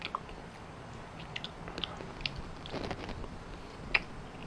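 Raw squid tentacles are chewed close up, with soft, wet squishing and faint crunchy bites in an irregular rhythm against a quiet background.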